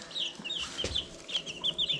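Homestead chickens cluck in short, repeated bursts, close and fairly loud, with a few sharper squawks breaking through and no talking.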